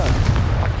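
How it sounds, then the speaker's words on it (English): A Confringo explosive spell going off in Hogwarts Legacy, a short burst of booming, crackling blasts with a dense low rumble, loud and close, with no voices over it. "Confringo!"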